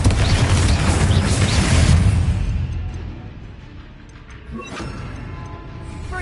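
In the Hogwarts Legacy game, Bombarda and Confringo spells set off explosions, a loud rumbling boom that rolls for about two seconds and then fades into a quieter lingering rumble, followed by a smaller burst.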